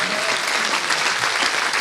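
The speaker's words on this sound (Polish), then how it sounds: "Brawa." Dense audience applause at a concert, a full room clapping loudly and continuously from close by with no voices over it.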